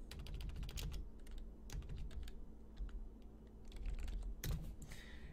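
Typing a C# script name on a computer keyboard: quick irregular clusters of soft key clicks, close and quiet, with no talk.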